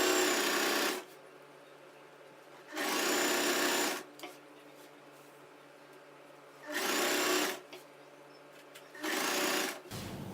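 A sewing machine stitches falls onto a saree in four bursts of rapid, steady whirring, each a second or two long, separated by quiet pauses.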